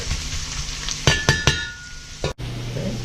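Beef frying in a pan for orange beef, a steady sizzle under a few sharp clinks and scrapes of a utensil against the pan, close and moderately loud.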